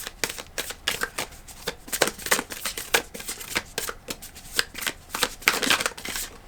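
Tarot cards are shuffled by hand close up, a rapid run of crisp riffling flutters and soft slaps repeating without pause, no speech over it.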